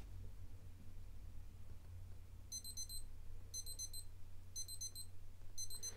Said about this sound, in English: there you get that prolonged beep for a couple of seconds, and that's it, it'll stop there